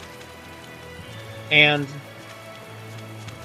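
Rain drums loudly and steadily on a surface, a dense constant patter running throughout beneath a person talking nearby.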